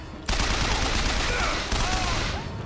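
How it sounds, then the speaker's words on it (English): Rapid burst of gunfire in BioShock Infinite, a loud dense fusillade of shots starting abruptly and continuing for a couple of seconds with a brief renewed burst partway through. "I know that was unnecessary shots at the end, but I kinda wanted to shoot him"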